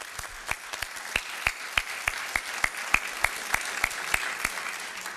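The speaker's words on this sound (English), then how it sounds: "A big round of applause for our speakers and for their time and their ability to share in this" An event audience claps for the speakers in a steady rhythmic applause, with distinct individual claps beating out evenly at a moderate distance.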